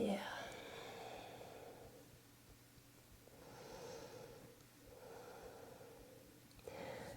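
Slow, audible exhales during a yoga stretch, soft breathy rushes of air repeating in an unhurried rhythm, close and quiet with faint room tone between breaths.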